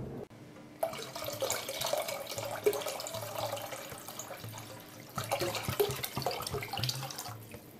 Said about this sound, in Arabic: دونك مش نزيد شويه ماء